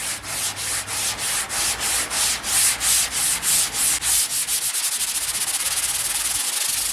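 Sandpaper rubs over a Chevrolet Silverado truck body in quick, regular back-and-forth strokes that speed up toward the end, close and fairly loud, with no voices.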